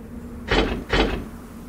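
Two short closed-door thuds from the puzzle video game Rhem, evenly spaced and fairly loud against a quiet hum, each a dull knock with a brief rattle.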